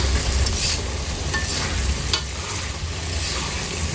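Greens frying and being stirred in a hot pan, a constant loud sizzle with occasional scraping strokes of the spoon, no voices.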